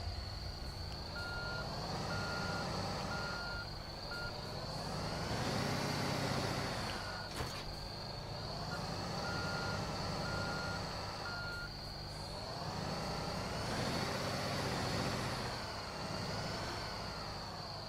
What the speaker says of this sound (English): let's jump back into the dump truck so we can turn this thing around